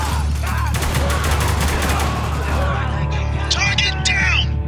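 Rapid gunfire from a firefight in the shooter game Spec Ops: The Line, dense bursts of shots over a steady low rumble, with a shouted voice near the end.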